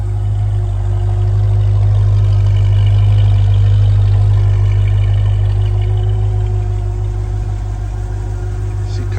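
A 1966 Ford Mustang engine runs steadily at a smooth idle, with a loud deep rumble that holds even throughout.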